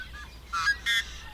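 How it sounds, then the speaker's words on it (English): Yellow-headed blackbirds give two short raspy, buzzy calls in quick succession, close and clear above a low wetland background. "Yellow-headed blackbirds, though, they're constantly making noise."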